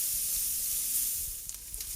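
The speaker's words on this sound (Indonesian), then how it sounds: "Kemudian ini kita aduk dan tumis sampai harum dan agak kecoklatan." Ground pepper and pounded aromatics sauté in a hot pan with oil, giving a steady close sizzle with soft stirring scrapes toward the end.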